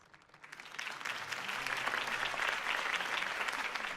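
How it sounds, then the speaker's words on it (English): Video game crowd applause in Telltale's Batman, clapping steadily, swelling from sparse to a dense, sustained roar of many hands over several seconds. "could have heard that applause"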